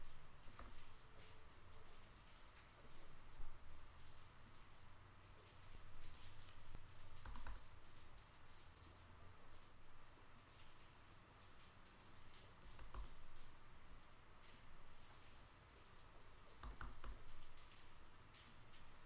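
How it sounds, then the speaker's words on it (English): Soft, scattered keystrokes on a computer keyboard while a recovery phrase is typed in, faint and irregular over a quiet room hum, with a few slightly louder taps. "and I'll type it in."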